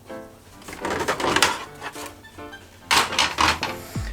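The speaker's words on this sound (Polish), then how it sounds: "wyjmujemy dolną szufladę" Lower paper drawer of a Samsung SCX-4200 printer being pulled out, a run of close plastic scraping and clattering knocks in two bursts with a brief pause between.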